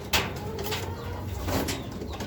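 Pet pigeons fluttering their wings while being fed, a few soft, brief flapping bursts close by with faint cooing in a quiet room.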